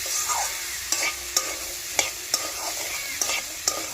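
Chickpeas frying in chana masala spices, a steady close sizzle broken by sharp clacks of a spoon stirring against the pan every half second or so.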